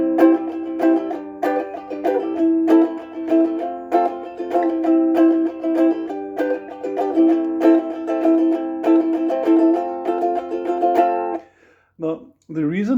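A ukulele strums the chords of a song in a simplified version, steady bright plucked chords in an even rhythm, ending with a few quiet notes.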